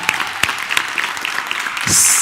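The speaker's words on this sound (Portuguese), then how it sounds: "Esse é o seu melhor aplauso, gente." Church congregation clapping after being urged to applaud during a conference sermon, scattered claps at first, then a sudden denser burst of applause near the end, fairly close and loud.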